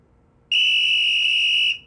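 A single shrill, steady whistle blast from a child's toy whistle, loud and close, held for just over a second after a quiet start, with no voices.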